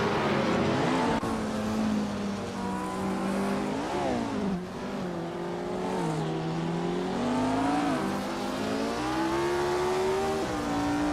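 Race cars in a racing video game roar and rev as they drive and overtake, engine pitch rising and falling through gear changes in a steady, continuous drone with no talking.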